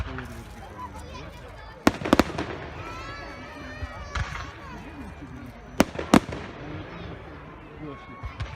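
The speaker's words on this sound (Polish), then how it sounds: "to są duże fajerwerki." Large fireworks on a Bonfire Night, with loud booming bursts and sharp cracks echoing at intervals, some distant rumbles between them, while people talk underneath.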